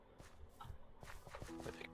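Footsteps crunching through leaves in the Minecraft video game, a quick run of soft, crisp steps that stay close and moderately loud, with light game tones chiming near the end.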